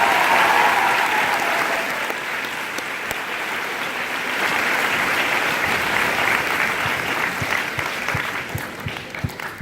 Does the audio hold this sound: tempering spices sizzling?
no